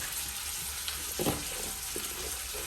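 Chopped capsicum hits a hot pan while cooking badnekayi henegai, an eggplant dish, giving a steady close sizzle and frying hiss. A few soft stirring clicks sound over it, with no talking.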